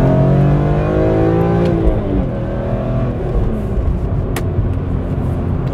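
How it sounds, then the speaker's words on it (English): A naturally aspirated BMW M3 E46 with traction control off and sport mode on accelerates hard, its loud, close engine note climbing through the revs, briefly dipping at a gear change, then pulling again. "I want to drive it and experience it full on."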